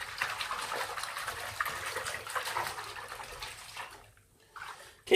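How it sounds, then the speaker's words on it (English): A hand swishes and stirs soapy water in a bathtub to raise suds before cleaning a brass instrument, a steady, close sloshing wash that fades near the end with a brief final splash. "rustle up the water with my hand."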